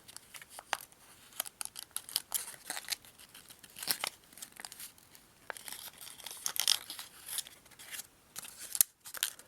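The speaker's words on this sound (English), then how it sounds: "Now let's unfold it and we'll just fold it inside using the crease we just made." Origami paper is creased and folded for a baby elephant model. Close, crisp crinkles and sharp paper snaps come in quick irregular bursts.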